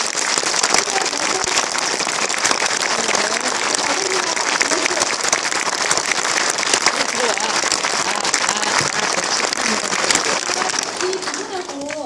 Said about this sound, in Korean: 저희 반갑게 한 번 박수로 와다주시면 감사합니다.